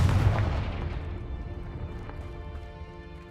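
A Confringo blasting-curse explosion in Hogwarts Legacy bursts at the start, then decays into a long, fading rumble that stays fairly quiet throughout.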